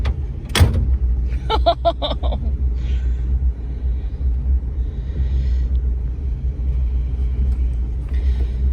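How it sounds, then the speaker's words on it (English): A 1956 Chrysler New Yorker four-door's heavy door shuts with one solid thunk near the start, followed by a short mechanical rattle, with low engine rumble running steadily underneath. "Listen to this door close."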